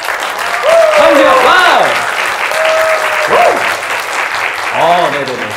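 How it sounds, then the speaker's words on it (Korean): An audience at a Gundam Day diorama workshop claps to welcome a guest on stage, steady applause running throughout while voices and cheers rise over it. "박수로 맞아주시기 바랍니다"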